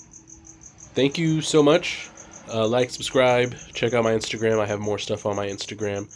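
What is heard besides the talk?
cricket chirping in the background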